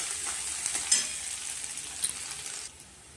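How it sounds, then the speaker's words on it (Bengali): Crushed ginger and chopped garlic sizzle in hot oil in a pan while being stirred, a steady close frying hiss with a couple of light utensil clinks, trailing off near the end. "এবার দিয়ে দিচ্ছি থেতো করে রাখা দেখো আদা আর রসুন কুচি, একটু লাল করে ভেজে নেব।"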